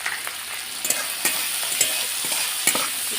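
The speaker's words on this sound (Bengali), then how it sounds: "ভালোভাবে ভেজে নেবো" Chopped tomato and green chili frying in oil with salt and turmeric, a continuous sizzle broken by several sharp scraping stirs of a spatula against the pan, close and fairly loud with no talking.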